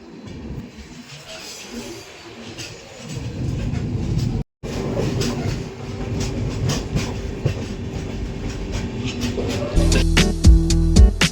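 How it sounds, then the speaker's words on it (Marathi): An Indian passenger train runs at night near Ankai fort on the way to Khandwa junction, giving a steady close rumble with rhythmic clicking wheel clatter that grows louder and more tonal toward the end. "तुम्हाला दाखवतो मी ही आपली ट्रेन"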